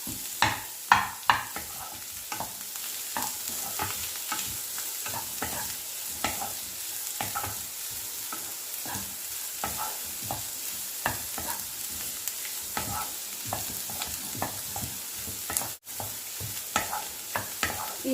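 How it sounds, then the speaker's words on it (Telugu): Egg fried rice being stir-fried Chinese style over high heat: a constant sizzle runs beneath frequent sharp scrapes and clanks of a spatula tossing rice in the pan, with no talking. "అన్నీ వేసుకొని హైలో పెట్టుకొని బాగా వేయించుకోండి."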